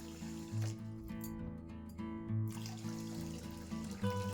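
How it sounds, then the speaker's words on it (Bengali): Water is poured onto about 500 grams of sugar to start a syrup, a soft, steady liquid pour heard close and faint over a low hum. "এবার পরিমাণ মতো জল দিয়ে দেব।"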